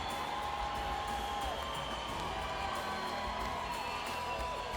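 Large Brazilian home crowd cheering steadily in a Paralympic swimming arena at Rio 2016, a continuous broad roar of voices with whoops, fairly distant and reverberant, with no talk over it.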